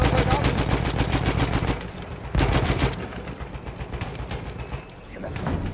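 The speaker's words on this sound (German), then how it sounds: "Ein Maschinengewehr!" Rapid machine gun bursts rattle loudly in a Battlefield 1 multiplayer match, a fast steady stream of shots that breaks off briefly and resumes, with scattered distant gunfire and faint voices in between.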